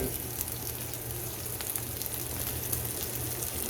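Steak searing in tallow in a skillet, a steady, close hiss and crackle of sizzling fat that holds evenly throughout without pause.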